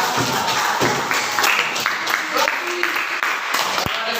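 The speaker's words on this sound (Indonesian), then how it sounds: "Tepuk tangan." Classroom applause as students clap for a classmate's answer in an Indonesian lesson: a dense, fairly close burst of clapping with voices talking over it throughout.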